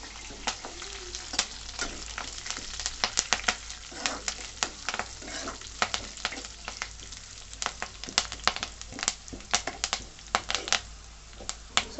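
Curry leaves frying and sizzling in hot oil for idli upma, with a spoon repeatedly stirring and scraping the pan in irregular close clicks and crackles, no talking.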